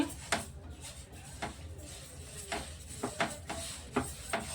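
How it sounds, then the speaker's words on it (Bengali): A utensil stirs mung dal in a pan over medium heat, making soft, irregular scraping and tapping clicks at a low level, with no voices. "মুগের ডালটা সমানে নাড়তে হবে"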